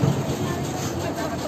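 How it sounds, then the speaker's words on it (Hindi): Toy train ride at Elephanta Caves: a steady, close rumble of the small train running along its track, continuous throughout with faint rhythmic clatter and voices mixed in the background. "ट्रेन आ गई एंड अब हम लोग जाएंगे ट्रेन पे बैठ के"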